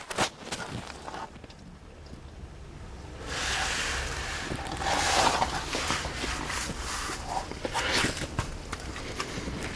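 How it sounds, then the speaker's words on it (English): Transmission oil drains from a Mazda 626 into a drain pan as a steady, rushing liquid hiss that swells after a few seconds and continues with scattered clicks and knocks in a garage. "You're draining the transmission oil,"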